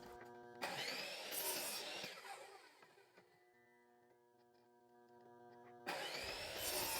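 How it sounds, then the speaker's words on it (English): A power saw cuts a wooden board into short sections, loud bursts of rough cutting at the start and end with the blade's tonal whine winding down and spinning back up in between. "No, it's just a saw. But we're gonna cut this board in about 3-inch sections."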